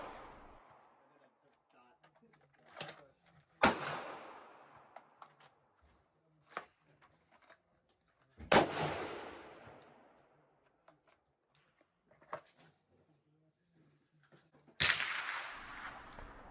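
Colt 1903 pistol fired at an outdoor range in three sharp, loud single shots spaced several seconds apart, each with a decaying echo, and faint clicks and handling noises in between.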